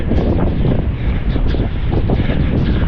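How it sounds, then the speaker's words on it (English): Strong wind on the Gold Coast, Australia, roars steadily and loudly across the microphone, a constant rumbling buffet with no pauses. "It's so windy."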